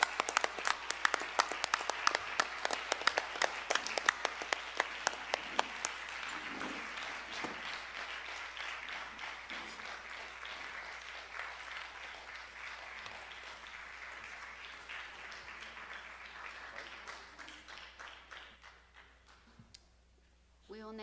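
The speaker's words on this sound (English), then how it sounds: "Another round of applause." Applause at a school board of education meeting. A brief burst of sharp, close claps gives way to a long, steady room-wide ovation that tapers off near the end, with faint talk underneath.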